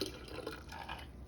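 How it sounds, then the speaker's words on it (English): Brewed sweet Southern iced tea being poured into a pitcher, a soft, quiet liquid trickle and splash lasting only a moment, with no voices. "I'll just pour that straight in, and you can still see it's some good tea."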